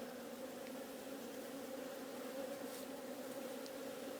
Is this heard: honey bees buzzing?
yes